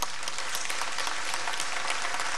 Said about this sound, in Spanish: Esperen que termine porque no sé si me van a seguir aplaudiendo después